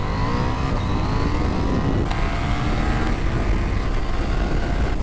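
Suzuki GSX-8S and KTM 790 Duke middleweight motorcycles accelerating hard at full throttle from about 10 mph, a loud continuous engine roar with rising pitch sweeps as they pull through the gears, close and steady.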